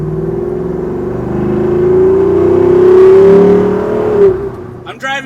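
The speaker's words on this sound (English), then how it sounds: "I'm driving the 2026 Jeep Wrangler Moab 392." A 2026 Jeep Wrangler Moab 392 with its V8 engine drives and revs, a loud, steady low rumble that rises and swells, then cuts back near the end, with a brief bit of other sound after.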